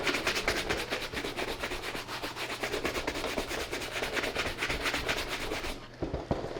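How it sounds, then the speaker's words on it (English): A soft bristle brush works mink oil into a white leather Air Force 1 sneaker, a steady close rubbing scrub going back and forth without pause, fading near the end. "use Rejuvenator soft bristle brush and kind of just work it in"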